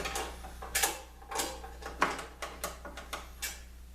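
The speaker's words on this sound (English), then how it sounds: "grab my Allen key here" An Allen key tightens a T-nut on a woodworking box joint jig, giving a string of sharp, close metallic clicks and ratcheting taps in an irregular rhythm over steady low background hum.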